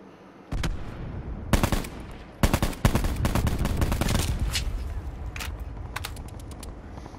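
Bursts of automatic gunfire from a Call of Duty Black Ops 4 Blackout battle-royale match, loud rapid volleys with short pauses and single shots, followed by steady firing continuing under a low background.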